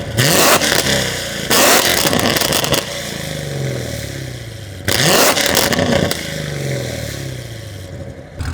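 A manual sports car engine revs hard and drops repeatedly, rising through gears with rasping, loud surges separated by brief lulls.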